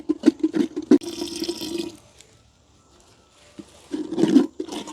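Water poured into dosa batter in short splashing bursts, a pause of near silence, then another louder gush of pouring.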